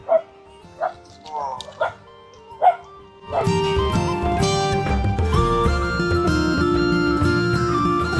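Dogs, including a pet dog and street dogs, bark in several sharp, separate yips and barks near the microphone over the first three seconds, then a loud, dense wash of noise and other sounds takes over.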